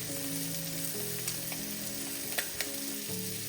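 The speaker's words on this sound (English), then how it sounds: "Pork chops just went on, but the onion's been cooking for about 10 minutes." Thick pork chops and onions sizzle steadily in a pan, a close continuous crackling hiss with a couple of brief clicks and a low background hum.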